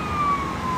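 Emergency vehicle siren sounds amid a highway traffic jam, a steady wailing tone drifting slightly in pitch over constant traffic rumble, moderately loud throughout the short stretch.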